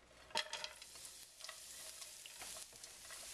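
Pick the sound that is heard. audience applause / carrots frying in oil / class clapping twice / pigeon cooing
carrots frying in oil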